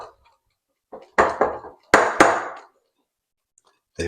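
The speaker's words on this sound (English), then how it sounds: "We're going to quickly whisk them together." A whisk mixes dry pancake ingredients in a bowl, giving a few short bursts of clinking and scraping against the bowl, separated by quiet gaps, close by.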